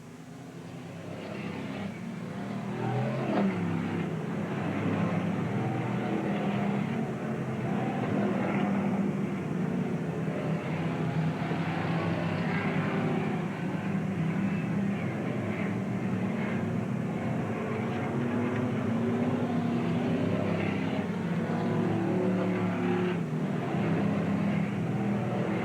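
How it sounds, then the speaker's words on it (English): Race cars circling Willamette Speedway at a 1987 oval race. Their engines make a continuous loud, steady drone for the whole stretch, with no break in the noise. "Tim Sapp driving car number 3, giving it all he's got, trying to catch the number 1 car in this event."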